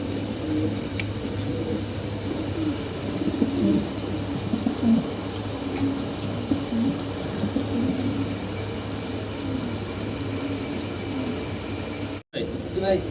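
Low pigeon coos murmur steadily throughout, close by, while people talk over them.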